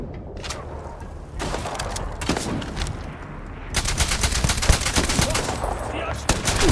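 Rapid gunfire in the video game Starfield, with dense volleys of automatic shots that grow heavier partway through, and a voice speaking briefly under the shooting.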